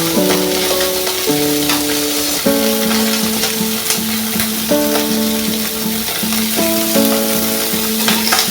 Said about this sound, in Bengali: এক পিঠ ভাজা হলে অপর পিঠ উল্টে দেবো।